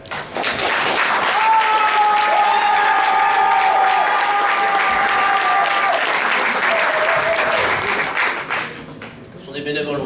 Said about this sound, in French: Vous pouvez bien sûr encore applaudir tous les artistes.